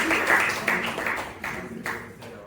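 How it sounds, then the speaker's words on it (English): An audience at a teaching session claps in a short burst of applause for a participant, with a few overlapping claps fading over a couple of seconds. "A big round of applause for Prince, sir."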